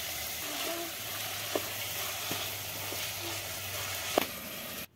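Black chickpeas fry lightly in a pan with a steady, quiet sizzle and a few small pops and clicks scattered through it.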